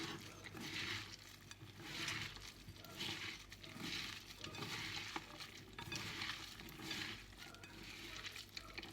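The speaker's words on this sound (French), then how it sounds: "On mélange bien pour que ça s'incorpore bien dedans." Baklava makrout dough being mixed by hand in a bowl, a rhythmic, repeated rustling and squishing churn with slight pulses about once per second, close and steady with no talking.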